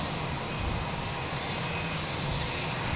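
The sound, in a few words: Frontier Airlines jet arriving at Boston Logan Airport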